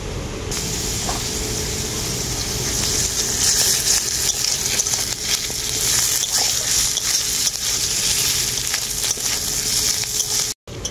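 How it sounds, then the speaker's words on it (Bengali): Ginger garlic paste fries in a pan with potatoes and onions, making a continuous close hiss and sizzle with soft stirring scrapes throughout, cutting off abruptly near the end. "আদা আর রসুনটাকে আমি খুব ভালো করে ভেজে নিয়েছি"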